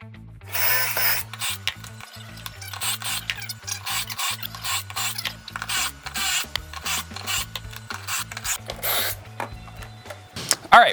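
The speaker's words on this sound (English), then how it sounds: "we've got all of our pocket holes drilled out" A pocket-hole drill working through wooden boards for a rolling tool cabinet frame, with repeated rasping, grinding bursts and clicks, close and moderately loud, and a voice heard briefly in the background.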